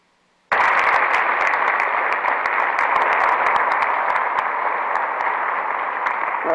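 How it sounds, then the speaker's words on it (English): A church audience claps after a performance by chancel handbell ringers, a dense, steady wash of applause that starts abruptly and holds at full strength throughout, with no talking over it. "It's okay to clap."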